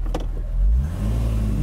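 The engine of a classic Mercedes-Benz 230 SL Pagoda W113 with a manual gearbox drops to a deep low rumble, then pulls up again under acceleration, heard from inside the car with no talking.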